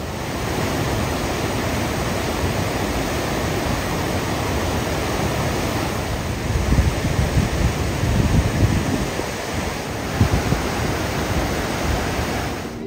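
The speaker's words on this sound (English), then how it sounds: "This is very powerful water. We're probably maybe 100 feet from the falls," Powerful rushing water of the river just below Niagara Falls, heard from about 100 feet away as a loud, steady broadband roar with gusts of wind buffeting the microphone, no voices.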